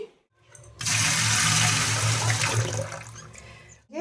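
Tap water runs steadily and loudly for about three seconds, filling a vessel to soak chopped leafy greens in a home kitchen, with a short quiet gap before and after and no talking.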